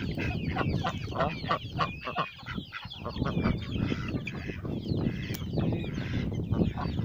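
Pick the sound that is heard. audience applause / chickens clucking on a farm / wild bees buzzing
chickens clucking on a farm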